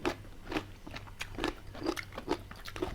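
Crunchy jellyfish snack dressed in sesame oil, chewed close up with about seven rhythmic crunching bites, each a short, clear crackle.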